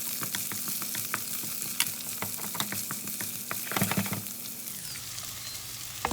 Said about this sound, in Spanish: con mucho cuidado para que no se nos queme el ajo, echaremos la cebolla